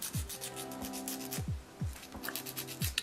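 Nail file rubbing across fingernails in short, repeated rasping strokes, close up and soft, with no voices.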